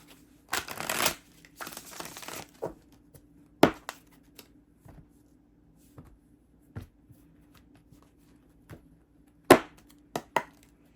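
Bursts of card shuffling, two quick riffles near the start followed by scattered taps and soft snaps of cards being handled, close and fairly quiet.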